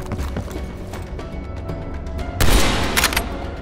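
Scattered gunfire in Call of Duty, sharp pops and cracks over a rumbling battlefield backdrop, building to a louder cluster of shots near the end.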